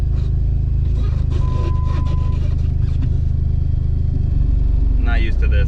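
A Dodge car with a 5-speed manual and an exhaust leak idles with a loud, steady low rumble and puffing exhaust pulse, a voice talking over it throughout.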